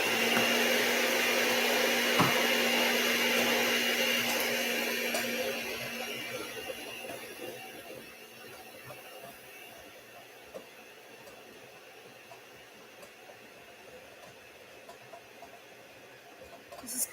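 An electric mixer whirs steadily through gluten-free pineapple upside-down cake batter, fairly loud at first, then fading to a faint hum after a few seconds, with light clatter near the end.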